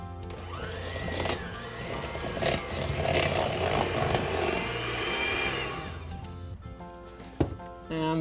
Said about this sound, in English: We're going to mix this up until we get a nice creamy consistency.